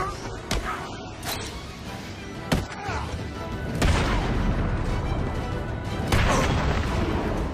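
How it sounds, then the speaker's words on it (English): In Batman: Arkham City, Batman's punches land as sharp, booming cracks that sound like gunshots, a handful of loud isolated hits scattered over a noisy fight background. "Batman would be a lot more stealthy if his punches didn't make gunshot sounds"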